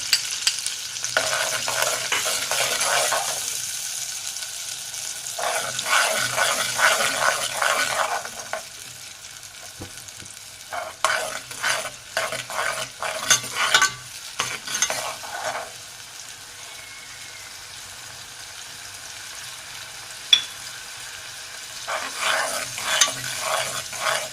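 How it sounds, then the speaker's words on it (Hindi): Spices with chili powder, turmeric and salt being stirred and fried in a pan for dal kachori, a steady sizzle with scraping strokes that come in bursts and pauses, close and fairly loud, no talking. "मसाले को अच्छे से हम भूनेंगे।"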